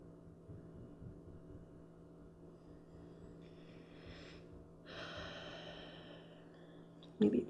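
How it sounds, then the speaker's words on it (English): Slow, deep breaths during a yin yoga swan pose session: soft, airy inhales and exhales that are quiet and close over a faint steady hum, ending in a brief louder rustle. "Let's take 3 more deep breaths."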